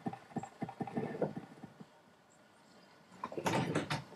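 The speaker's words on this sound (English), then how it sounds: "I got a white horse now." Horse hooves clip-clop in a video game, a quick run of sharp rhythmic taps that pauses in the middle, then a louder burst of clattering steps near the end.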